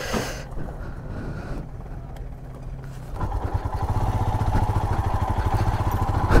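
A motorcycle on a solo ride over very bad, broken roads rumbles steadily, with rattling and clattering from the rough surface. The engine and jolting grow louder and busier partway through.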